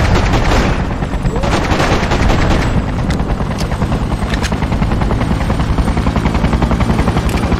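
Dense, loud gunfire rattles nonstop at soldiers in the Freedom Fighters game, rapid bursts layered over a roaring helicopter-like drone, close and relentless throughout.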